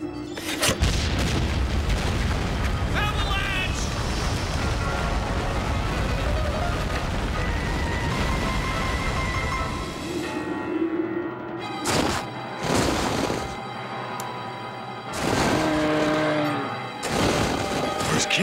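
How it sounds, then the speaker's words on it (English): Loud, continuous rumbling booms from detonated explosive charges triggering an avalanche in a Street Fighter animated TV show, a heavy roar that fills the first half, then gives way to a few sharp crashing hits and other effects. "Detonate the charges!"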